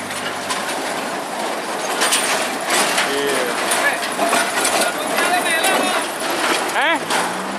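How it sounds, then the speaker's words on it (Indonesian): Locomotive No. 5 (Hokuriku) rolls over a rail crossing where two lori tracks intersect, with steady wheel rumble and clickety-clack joints and a sharp wheel squeal near the end, loud and close throughout. "Dan sekarang lokomotif Hokuriku nomor 5 siap melewati perempatan rel atau crossing antara rel lori dengan lori."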